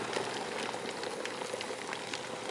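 Water boiling for English tea bubbles and seethes with a constant, busy crackle of small bursts and pops, moderately loud and close, with no talking.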